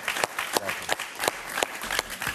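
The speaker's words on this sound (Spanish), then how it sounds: "Un aplauso." A television talk-show studio audience breaks into applause, a dense burst of many hands clapping together with some sharper individual claps. No one speaks over it.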